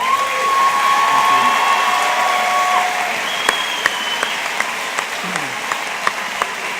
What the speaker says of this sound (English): How about a round of applause for our faculty and staff?